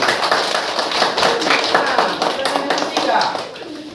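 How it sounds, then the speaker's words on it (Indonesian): A fifth-grade primary school class claps for a student, a dense patter of hand claps lasting the whole stretch and fading slightly at the end, with children's voices mixed in. "Tepuk tangan buat Bayu."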